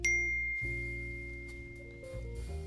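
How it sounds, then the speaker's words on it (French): Mobile phone sounding an email notification, a bright ding followed by sustained electronic tones that shift pitch in steps, close and clear with no talk. "Mon téléphone, il fait bip."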